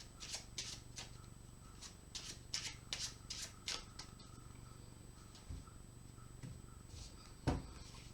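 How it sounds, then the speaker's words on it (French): A spectator shuffles a deck of playing cards during a magic trick, giving repeated soft riffling bursts in an irregular rhythm, close and fairly quiet, with no talking. "Le spectateur se saisit du jeu et mélange."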